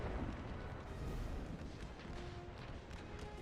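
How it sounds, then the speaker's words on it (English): Civil War artillery shelling in a video game battle near a riverbank and forest, a dense rumbling barrage of overlapping booms that keeps rolling without a break. "they are still taking a crazy artillery shelling right there at that little riverbank"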